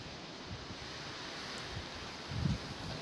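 Hurricane-force cyclone wind at night, around 25 m/s, whipping past a Ferris wheel and thuja shrubs, a steady broadband roar with low buffeting gusts that surge louder near the end.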